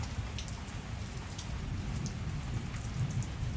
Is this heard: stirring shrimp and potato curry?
no